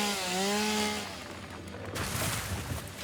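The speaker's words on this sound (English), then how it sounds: "I can save some of that and do my chainsaw. We'll cut some stuff down." In the video game Satisfactory, a chainsaw revs with a rising mechanical whine, then settles into a harsh, buzzing cutting roar. It is fairly loud and continuous, with no talking.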